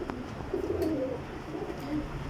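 Flying pigeons from a loft of sixteen birds coo in low, throaty rolling calls, several overlapping notes close by over a steady background hum.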